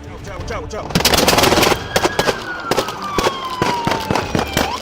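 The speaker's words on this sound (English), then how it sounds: "Shots fired! Shots fired!" Rapid gunfire at police officers during a confrontation with an armed suspect, a loud dense burst of shots followed by scattered sharp cracks, close and harsh, with shouting voices and a siren-like tone underneath.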